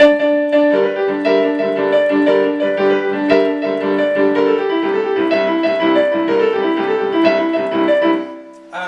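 A solo piano plays a bouncy junker blues pattern, chords and bass notes repeating in a steady rhythm, close and clear.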